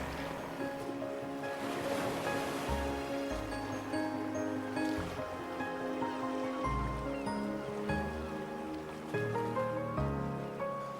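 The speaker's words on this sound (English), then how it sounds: "the rough sounds of the waves just lull you to a place of comfort" Steady wash of ocean surf rolling in continuously at a harbor in Samcheok, Korea, broad and fairly close, with a low rumbling undertone and no voices.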